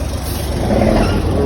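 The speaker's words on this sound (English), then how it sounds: "Trucks" Trucks moving through a congested fuel depot, a steady low engine rumble with broadband traffic noise and a hint of air brake hiss, constant and fairly loud throughout.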